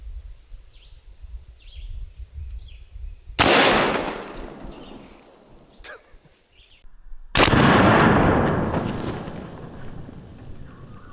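A Zeus .72 caliber air gun firing a 650-grain hollow point at a small target, with sharp loud blasts followed by decaying rushing noise and a brief crack between them, against a quiet outdoor background.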